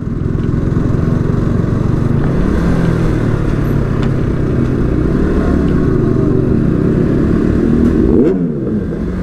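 A motorcycle engine drones steadily and loudly throughout a group ride toward a Kolkata meetup, with rough low rumble and mechanical clatter, close to the rider, and no clear speech over it.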